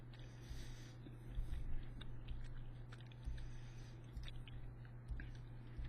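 Someone slowly chews a Bean Boozled jelly bean close to the mic, making soft, wet, gritty mouth noises against a faint steady hum.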